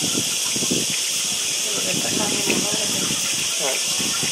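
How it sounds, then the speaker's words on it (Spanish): Steady hiss of water pouring from a shower head, loud and continuous, with people talking underneath. "eso que se escucha es el agua caer de la regadera"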